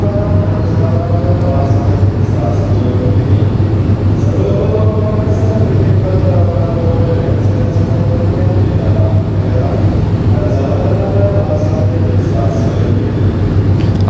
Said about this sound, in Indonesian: Perjalanan kereta api Majapahit saat ini tiba dan berhenti di stasiun Kesamben